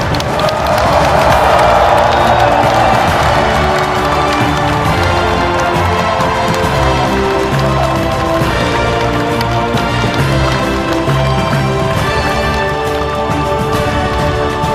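A large crowd at a South Korean national advisory council launch ceremony applauds and cheers loudly and steadily for President Lee Jae-myung, a dense wash of clapping and voices that carries on without a break.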